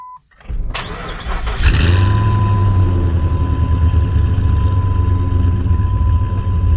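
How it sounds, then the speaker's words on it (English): A Jeep engine cranks and fires up just after a purge valve solenoid replacement, catching within about two seconds and settling into a steady, loud idle with a constant low rumble and a faint whine. "Got that purge valve solenoid replaced, so we'll just start it up."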